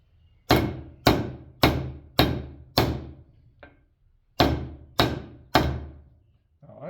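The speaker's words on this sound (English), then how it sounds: "I'm using a mallet with two plastic ends." A plastic-ended mallet drives an idler bearing into place on a Wood-Mizer LT15 sawmill, landing eight sharp, ringing knocks in two even runs with a pause between them, plus one light tap.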